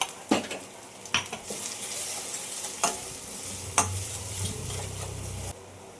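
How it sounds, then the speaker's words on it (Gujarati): Spices tempering in hot oil on a low flame for an aloo samosa filling give a steady sizzle, broken by several sharp clinks of a spoon against the pan, with a low hum that swells toward the end. "હવે આની અંદર આ મસાલો વઘારી નાખીએ આપણે"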